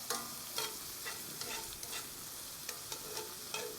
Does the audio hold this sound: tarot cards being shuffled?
no